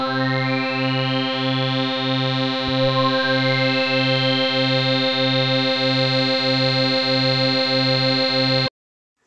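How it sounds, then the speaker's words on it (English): Synth notes run through a polyphonic zero-delay diode filter whose envelope sweeps the cutoff. The result is a loud, buzzy sustained chord with a pulsing low end, brightening at the onset and holding for several seconds before stopping abruptly. "each of those three notes I triggered had an independent filter sweep modulating the cutoff via the envelope parameters"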